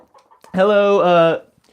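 A chicken gives one drawn-out, harmonic vocal call lasting under a second, close and clear, at a bird-feeding session where other birds are about.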